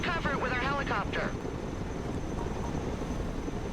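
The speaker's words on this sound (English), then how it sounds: "Let's go and recover it with our helicopter." Cargo helicopter in the video game Broken Arrow, its steady rotor and engine drone filling the scene at constant loudness, with a voice talking briefly over the start.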